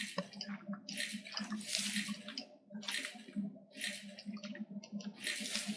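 Water sloshes and splashes in repeated bursts as a gold pan is dunked in the video game Gold Rush: The Game, several uneven surges over a low rumbling background.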